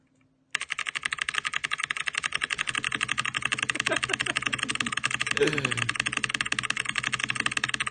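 Rapid, continuous clicking of a computer keyboard during a typing speed test, dense and close, starting abruptly after a short quiet moment, with a voice talking briefly underneath.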